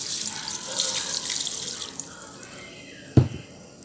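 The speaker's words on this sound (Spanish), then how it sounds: "agregamos agua y lo voy a hacer hervir durante una hora." Water running from a tap into a pot for a vegetable broth with carrots, fresh thyme and white wine, a steady close hiss and splash that stops, followed by a single clunk.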